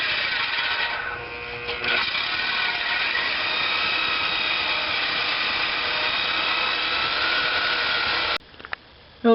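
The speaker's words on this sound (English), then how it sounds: "Got a sawzall saw here. A reciprocating saw." Reciprocating saw (Sawzall) cutting through the top of a car muffler on a 2000 Dodge Grand Caravan, a continuous loud buzzing rasp close by that runs steadily and then cuts off, followed by a short clatter.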